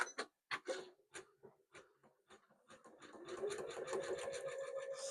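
A quilting machine stitching a quilt, starting with scattered separate clicks and taps, then settling into a steady rapid mechanical whir with a faint hum, close and fairly clear.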